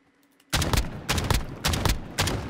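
Rapid bursts of gunfire in Call of Duty Modern Warfare, a shotgun among them: five or six loud, close blasts in quick succession after a brief quiet start, each sharp and booming.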